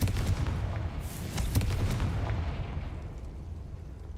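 A Confringo spell blasts in Hogwarts Legacy, a dense rumbling explosion with crackling bursts that roars, then slowly fades over several seconds.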